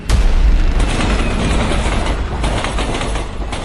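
A mail train rushes past on the tracks with a loud, continuous roaring rumble and steady rail clatter that holds for the whole stretch, close by and with no voices.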